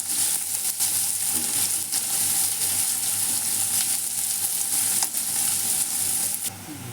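Chopped onion being stirred while it fries in a pan for a gram and potato vegetable dish, a continuous bright sizzle with soft scraping of the spoon, close and steady with no voices.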